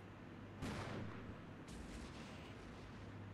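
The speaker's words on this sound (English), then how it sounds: "They're definitely dropping a heck of a lot of artillery over here." Artillery fire in the war game Armored Brigade, heard as two booming blasts about a second apart that roll out into a rumbling tail over steady low background noise.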